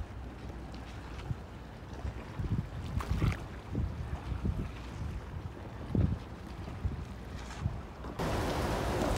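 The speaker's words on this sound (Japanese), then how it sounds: "海は今日は風が強いんで" Strong wind by the sea at a harbor fishing spot buffets the microphone in gusty, rumbling bursts, with a hiss of water and surf underneath and a louder gust rising at the end.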